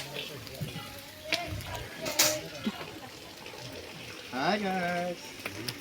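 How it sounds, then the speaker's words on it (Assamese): Fish fries in a pan with a faint, continuous sizzle, partly masked by voices talking nearby. "ইয়াত মাছ বনাই আছে দেই মাছ ফ্ৰাই কৰি আছে"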